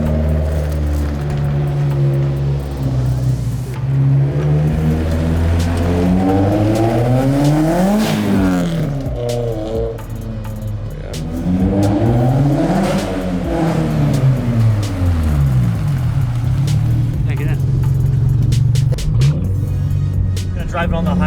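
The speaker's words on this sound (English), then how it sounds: "Drive it on the highway just a little bit to make sure that everything runs okay before I actually go home." A boosted Subaru BRZ accelerates on a highway, its engine note rising through the revs in repeated sweeps with shifts between, loud and droning from inside the car, with a person talking over it.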